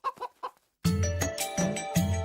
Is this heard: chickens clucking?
yes